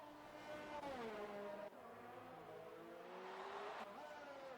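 Engines of F1 racing cars in a Formula 1 eSports game at the Austrian Grand Prix, running side by side into a corner, a steady loud whine with pitch bending down and up through gear changes.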